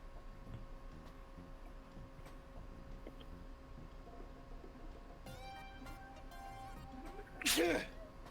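A single short, sharp sneeze lands near the end, sudden and fairly close, after quiet room tone with faint clicks and a soft electronic tone in the background.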